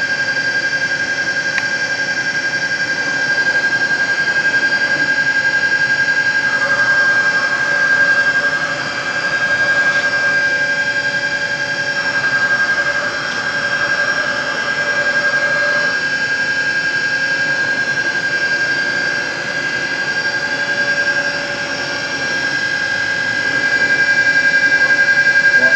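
Gerber Sabre 408 CNC router spindle motor running at 7,000 RPM, a loud, steady high-pitched whine with a sustained tonal hum, continuous for about 26 seconds with slight level swells and no speech.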